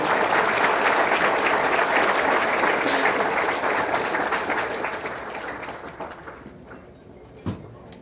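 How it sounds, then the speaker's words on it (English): An audience at a dean's breakfast applauds faculty and staff, dense sustained clapping that gradually fades over several seconds, ending in a few stray claps and a single knock. "Let's give all of our outstanding faculty and staff another big round of applause."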